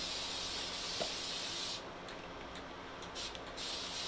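A continuous hiss of an aerosol spray can, steady for a couple of seconds, then dropping off briefly before spraying again.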